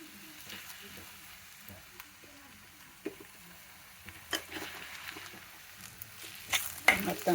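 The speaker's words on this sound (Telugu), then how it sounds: "మొత్తం కలిపెట్టి సిమ్లో వేసి కాస్త వేగనివ్వాలండి బాగా." Ash gourd halwa with jaggery and cardamom powder fries and sizzles softly in a pan, with scattered stirring scrapes and a few sharper clatters toward the end, steady and close.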